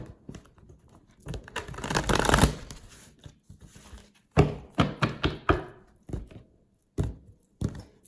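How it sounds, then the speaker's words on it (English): A deck of cards shuffled on a table, a long riffling burst followed by several sharp bridging and tapping sounds in quick succession, close and clear with no talking. "One more shuffle."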